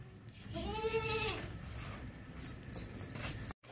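At a livestock market selling sacrificial goats, a two-toothed young female goat gives one wavering bleat near the start, set against a busy background of market noise.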